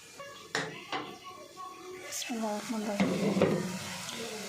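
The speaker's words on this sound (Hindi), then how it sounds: "1 टेबलस्पून ऑयल लिया है और ये जो चिकन मैरिनेट किया हुआ था वो हम कुक करेंगे" Marinated chicken cooks in a tablespoon of oil in a pan, with a soft sizzle under clinks and scrapes of stirring against the pan, while someone speaks over it.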